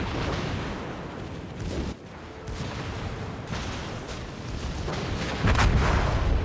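Naval guns fire in a warship video game, a dense, continuous barrage of booming shots layered into a steady roar, with heavier blasts swelling near the end.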